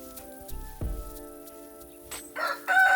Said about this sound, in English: this chicken is one of those chickens that wakes you up